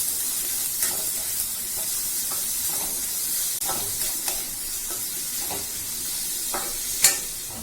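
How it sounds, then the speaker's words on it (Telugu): Three medium-sized chopped onions frying in oil in a pan, with a steady bright sizzle and hiss broken by scraping stirs and a sharp clink near the end, close up and without talk. "ఇప్పుడు ప్యాన్లో ఆయిల్ వేసుకొని 3 మీడియం సైజ్ ఉల్లిపాయల్ని ముక్కలుగా కట్ చేసుకుని వేయించుకోవాలి."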